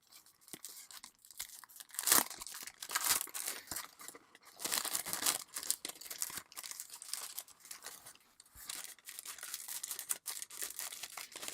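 Packaging for an Alpha Model 1/24 Aston Martin Vantage kit is torn open, with close, quiet bursts of plastic tearing and crinkling that come and go in an irregular rhythm, and no voices.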